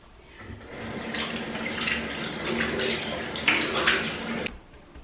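Water splashing steadily from a tap or basin as cleanser is rinsed off a face during a morning skincare routine, continuous and close for several seconds, ending abruptly.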